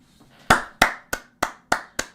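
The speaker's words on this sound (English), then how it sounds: "That's genuinely a round of applause for you guys." A single pair of hands claps six times in a quick, even rhythm, each clap sharp and close with a short decay, then silence between.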